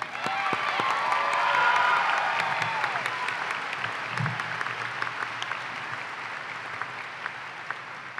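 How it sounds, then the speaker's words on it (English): Sustained audience applause at a university commencement ceremony, a dense steady wash of clapping with faint cheers, swelling early then holding at a broad even level, with a brief voice or two under it. "Please applause for all these folks."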